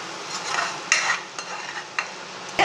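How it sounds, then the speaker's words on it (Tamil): Chicken masala for a ghee roast, cooked with a small piece of jaggery, frying in ghee and stirred in a pan. A steady close sizzle runs throughout, broken by several sharp scraping strokes of the spoon, with no voices. "இப்படியே வறுத்துக்கிட்டே இருக்கணும், ஃப்ரை பண்ணிக்கிட்டே இருக்கணும்"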